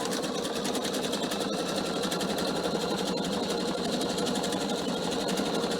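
A PFAFF sewing machine stitches a cushion cover at speed, producing a steady, loud, rapid mechanical chatter that continues evenly throughout, close and uninterrupted by speech.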